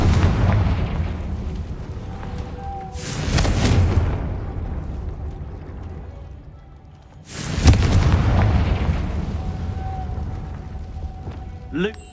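Spell explosions from the Confringo fire curse in the Hogwarts Legacy video game, two loud booming blasts several seconds apart, each with a rumbling tail, over steady game ambience and music.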